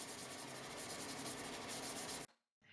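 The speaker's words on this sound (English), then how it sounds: "I sanded the 4 walnut pieces that were the picture frame around the skull" Hand sanding walnut picture frame pieces produces a steady, close, loud scratchy rubbing that continues evenly for about two seconds, then stops abruptly before a faint return at the end.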